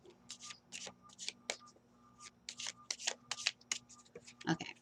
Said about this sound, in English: 2 different kinds of shuffling.